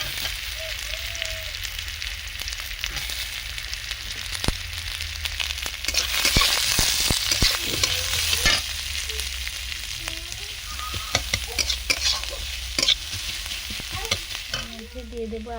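Bengali five-spice mix and chopped onion frying in oil for a banana-flower chop, a steady close sizzle with scraping stirs and clatters from a utensil, louder in the middle, no talking.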